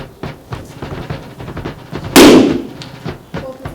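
Naval cannon fire in a Revolutionary War sea battle, a single sharp, loud boom with a rolling tail, set among scattered lighter pops and thumps of battle.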